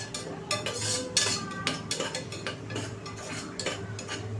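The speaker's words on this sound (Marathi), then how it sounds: "आलं लसणाची पेस्ट आणि कांदा छान असा फ्राय करून घ्यायचा आहे आपल्याला" Onion and ginger-garlic paste fry in a pan with a soft sizzle under frequent clinks and scrapes of a metal spoon stirring against the vessel.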